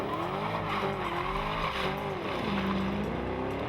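Mercedes-Benz SLK 55 AMG Black Series roaring hard, its engine note climbing and falling through the gears as the tires squeal and skid, loud and close throughout.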